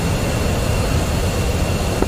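Jet aircraft engines in the DCS flight simulator, a steady broadband roar holding at constant loudness for the whole stretch with no gaps, close and dominant at a busy airfield.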